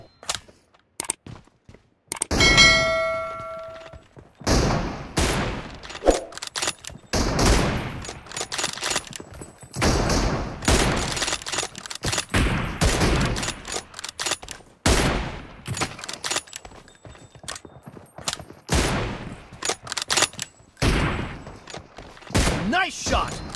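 M24 sniper rifle shots ring out in a 2v2 shooter match, sharp loud cracks spaced irregularly with bursts of other gunfire and game effects, voices calling out between shots.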